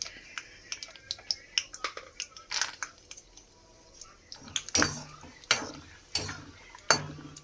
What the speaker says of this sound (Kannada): ಮೊದಲಿಗೆ ನಾವು ಕಡಲೆಕಾಯಿ ಬೀಜನ ಹಾಕ್ಕೊಂಡು ಕರ್ದಿಟ್ಕೊಂಡ್ಬಿಡೋಣ.